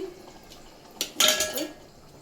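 A masala bowl is rinsed in water while chicken sambar is being made, giving a brief cluster of close metallic clinks and knocks of dishes with a soft watery swish, the rest quiet.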